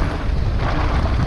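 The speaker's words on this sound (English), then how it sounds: "It is windy on this side." Strong wind buffeting the microphone at a hillside bike park, a low rumbling roar that stays constant through the short stretch.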